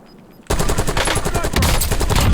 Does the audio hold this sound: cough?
no